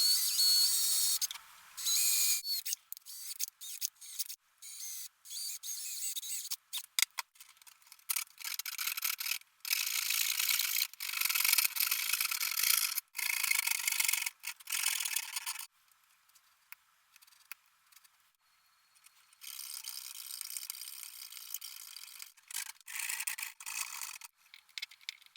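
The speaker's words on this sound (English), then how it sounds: "So now I'm finished cutting the hole for the humbucker." Harsh, hissy rasping of a tool cutting through a thin plastic guitar pickguard for a humbucker hole, in bursts with brief pauses, close and fairly loud, no voices.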